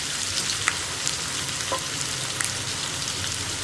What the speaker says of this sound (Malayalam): ഇതിലേക്ക് ഇനി നമ്മൾ കട്ട് ചെയ്ത് വെച്ചിരിക്കുന്ന സവോളയും പച്ചമുളകും ചേർക്കുക.